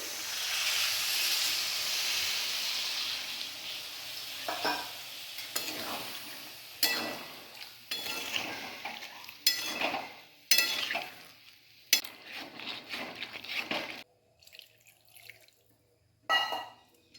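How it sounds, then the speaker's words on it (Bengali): Water poured into a pan of sizzling drumstick and potato curry, a steady hiss and splash for several seconds, then intermittent stirring scrapes and clatters as the frying quiets, with no talking. "এবার আমি জল দিয়ে দিচ্ছি।"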